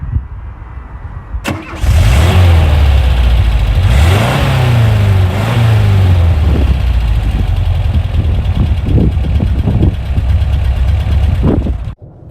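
A VW Type 2 T3 Devon camper van with a synchro gearbox starts up behind the listener, its engine catching after a brief crank and then revving several times before settling into a steady, loud idle with throttle blips.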